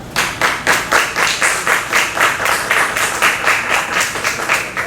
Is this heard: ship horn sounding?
no